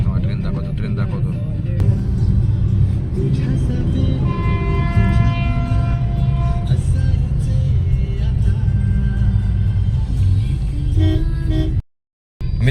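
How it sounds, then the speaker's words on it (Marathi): A train runs past during a road trip in Maharashtra, a steady loud rumble and rattle filling the whole stretch with tonal squeal partway through, ending in a brief cut to silence near the end. "ते बघा ट्रेन चालली तुम्हाला ट्रेन दाखवतो"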